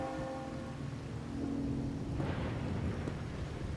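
A video game thunderstorm brings steady heavy rain and a low, rolling rumble of thunder that swells slightly partway through, all continuous with no voices.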